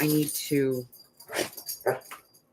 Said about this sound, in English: My puppies love me.